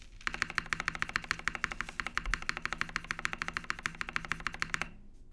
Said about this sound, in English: here's one more typing test